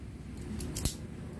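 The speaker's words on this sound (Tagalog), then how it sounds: "isa-strip ko muna yung ating mga wire dito" Electrical wire being stripped of its insulation during a two-bulb, two-gang switch installation, heard as a quiet snipping cut with a brief sharp click near the end over low room noise.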